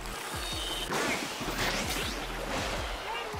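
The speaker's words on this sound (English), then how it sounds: "That sound of exploding." Splatoon 2 explosions burst out as two or three splashy, crashing blasts amid busy game sounds, with a voice talking low underneath.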